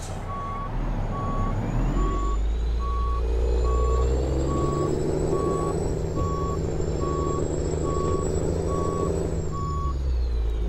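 Truck reversing beeps from American Truck Simulator, a regular evenly spaced beep over a loud, steady diesel engine drone, with a faint whine rising and falling.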